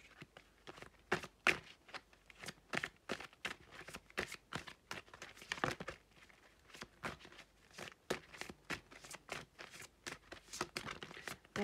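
Tarot advice cards are handled and shuffled close up, making a long run of quick papery flicks and riffles in irregular bursts, with no talking.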